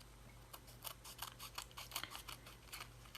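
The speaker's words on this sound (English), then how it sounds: "So I'm going to trim off the excess." Scissors trim the excess off a paper package tag, giving a quiet, close series of rapid snipping clicks over faint background hum.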